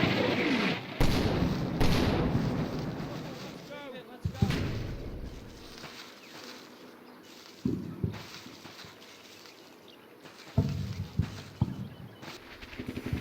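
Gunfire in the video game Combat Mission: Fortress Italy, with sharp irregular shots and heavy booming blasts spread over several seconds, some loud and close and others more distant, separated by brief quieter gaps.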